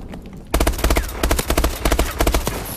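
Rapid gunfire in the shooter Call of Duty: Advanced Warfare, loud, close bursts of evenly spaced shots in quick rhythm that start abruptly and continue to the end.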